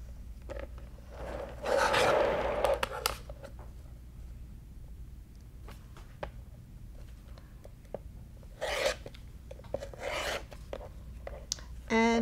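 A rotary cutter trims a fabric quilt block against a Creative Grids 6-inch Log Cabin trim tool: close, rasping slicing bursts in short runs, separated by quieter handling and rustling, with no talk.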